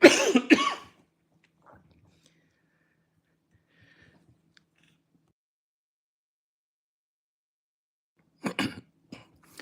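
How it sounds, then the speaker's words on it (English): A short burst of coughing up close, then near silence, then another brief pair of coughs at the end. "I'm going to cough, excuse me."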